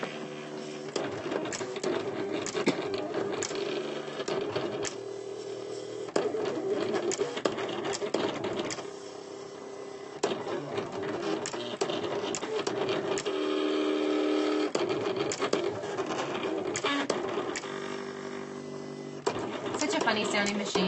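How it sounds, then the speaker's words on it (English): A Silhouette Cameo cutting machine cuts dragon shapes from powder wafers, producing busy whirring and stuttering mechanical motor bursts with short pauses, close by while a person talks over it. "I am cutting dragon shapes out of the No Days Powder Wafers"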